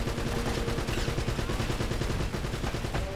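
Sustained gunfire in the video game Uncharted: Drake's Fortune, a dense, loud, continuous barrage of shots with no pauses, heard up close and alone.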